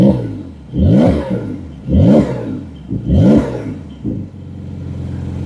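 Three loud revs from a 2021 Porsche 911 Carrera 4S with the sport exhaust open, each a sharp rise and fall of engine roar, followed by a shorter blip that settles into a steady idle burble.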